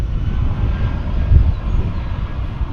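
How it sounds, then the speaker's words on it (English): A 25-year-old Airbus A320 dating to 1996 rumbles loudly at DFW Airport, its deep engine drone steady and close throughout, swelling slightly midway, with no voices. "This is a 25-year-old aircraft."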